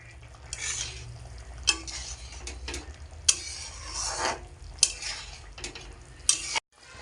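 A sour fish curry with mustard oil bubbles in a pan, a soft simmering hiss broken by several sharp spoon clinks and stirs against the pot before cutting off abruptly.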